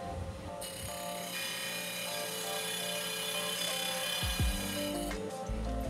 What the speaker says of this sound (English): you should only be sanding on the left side of the disc.